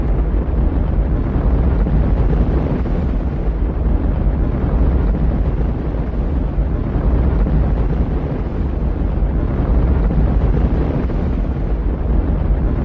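A deep, continuous rumble roars steadily and loudly without pause, like heavy ground shaking, with no voices present.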